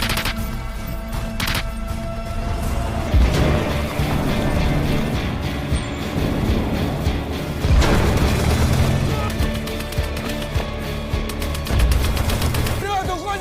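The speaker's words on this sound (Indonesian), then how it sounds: "Satu tembakan musuh berhasil mengenai tank 34" A tank cannon shot hits a tank in a war film scene with a Russian T-34 facing German tanks, heard as deep booms and bursts of gunfire over a dense, continuous battle mix.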